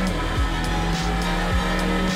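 A race car pushing flat out on track during a GP Explorer qualifying run, engine droning loud and close with repeated gear-change dips, a sustained harsh roar with no talk.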